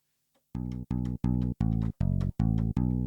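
Seven short, heavy deep house synth bass notes with the filter off, in a steady pulsing rhythm, loud and buzzy with a bright unfiltered edge, no talking.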